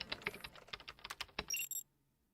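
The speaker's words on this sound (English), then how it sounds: "replaced by the sound of rapid typing" Rapid clattering keystrokes on a computer keyboard in the Girls Frontline video game, a quick burst of dense clicks ending in a short electronic beeping tone, then silence.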